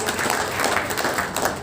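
An audience claps in a new multipurpose hall at its opening function, a dense, steady burst of applause that holds its level for under two seconds with no voices over it.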